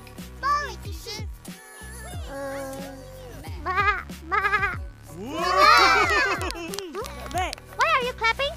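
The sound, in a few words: child imitating a sheep bleating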